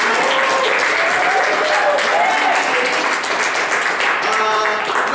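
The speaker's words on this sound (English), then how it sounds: "let's give a big round of applause for Zero Clearance Theater and Sweet Vine" An improv theater audience breaking into loud, continuous applause, close and dense, with a few voices and whoops mixed into the clapping throughout.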